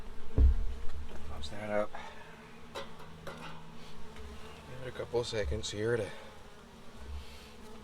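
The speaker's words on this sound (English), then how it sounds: "calm the bees down a bit, hopefully" Honeybees buzz steadily in a low, droning hum close by inside a hive being smoked during an inspection, while a person talks over them.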